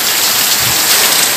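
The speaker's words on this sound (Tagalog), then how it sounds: "Hindi maganda yung panahon ngayon at sobrang maulan talaga." Heavy rain pours down during a stormy New Year's season in Bicol, Philippines, a dense, steady, loud hiss of drops on surfaces with no break and no voices.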